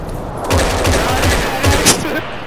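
Rapid gunfire bursts in a shooting video game, dense and continuous with heavy low thumps, playing loudly alongside game noise.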